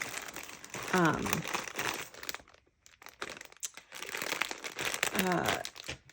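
Crinkly rustling of plastic packaging being handled, coming in two bursts close to the mic, with a voice talking over parts of it.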